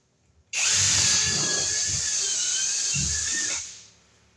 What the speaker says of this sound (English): I'll cut a drill hole here.